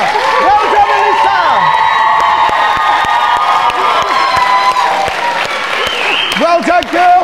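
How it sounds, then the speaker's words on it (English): A live audience at a UK talent show grand final claps and cheers continuously, with whoops and shouts rising above the applause, while a voice speaks over it. "Guys, round of applause for Alisa."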